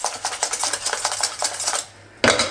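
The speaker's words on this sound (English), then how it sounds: "I'm going to mix everything well so it's nicely incorporated" Egg yolk is whisked vigorously into a cheesy Mornay bechamel in a pan, producing a fast run of metallic scraping and clinking for about two seconds. A brief pause follows, then one sharp clatter.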